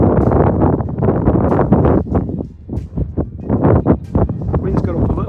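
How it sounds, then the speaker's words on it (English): Gusting wind buffets the microphone on an exposed hillside along the Kinder Scout skyline during a long day hike, a loud rough roar that swells and dips with a brief lull midway. "Wind's got up a little bit round this side, but it's nothing too much."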